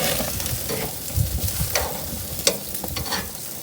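Lamb shawarma sizzles on a grill in a continuous close frying hiss, with a few sharp pops and scraping clicks as the meat is flipped, and no voices.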